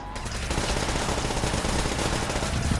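Sustained, dense automatic gunfire from the video game Call of Duty: World at War, played on a custom map, loud and continuous throughout with rapid overlapping shots and no pause.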